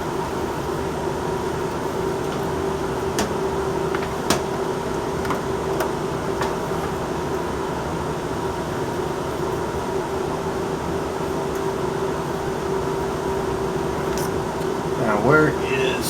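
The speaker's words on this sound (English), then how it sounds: "Alright, now we have the Dremel. We can go to town" A Dremel rotary tool runs during a mega truck scale model build, a continuous, even motor hum at steady speed with a few faint clicks and voices in the background.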